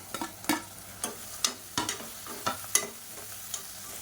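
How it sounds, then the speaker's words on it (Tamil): Tomatoes frying in a pan for chicken biryani, a steady low sizzle broken by repeated clicks and scrapes of stirring at irregular intervals. "இப்போ தக்காளி எல்லாமே நல்லா வதங்கிடுச்சு."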